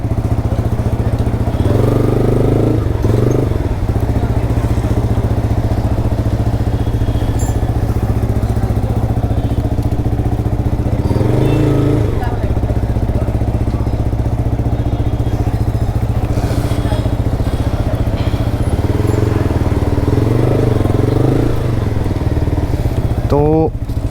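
A Yamaha R15 V4 motorcycle fitted with an Akrapovic exhaust runs nearby, a loud continuous low engine drone with a few revving swells, under ongoing talk.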